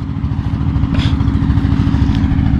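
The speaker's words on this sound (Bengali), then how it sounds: "আর ওই যে সামনে আরেকটা ট্রলার আসতেছে।" A river trawler boat on the Kaliganga passes close by, its engine a loud, steady low chugging rumble with rhythmic mechanical clatter throughout.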